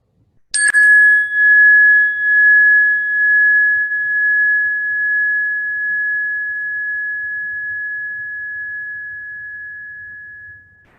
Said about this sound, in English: bring your attention to the sound of this bell